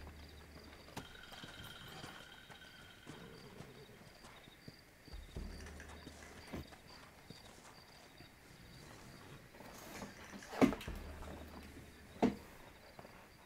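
Horse hooves clip-clop faintly in Red Dead Redemption, a soft irregular trot under ambient game sound and background voices, with two sharper knocks near the end.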